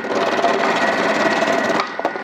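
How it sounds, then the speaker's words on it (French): Thermomix TM6 vegetable cutter grating carrots on the thick setting: a steady, loud mechanical whirring and rasping that runs continuously, then drops off abruptly near the end with a couple of small knocks. "Pour des carottes râpées avec le mode du TM6 en épais"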